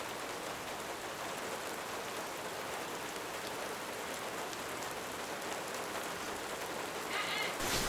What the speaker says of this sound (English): How do you feel about the rain?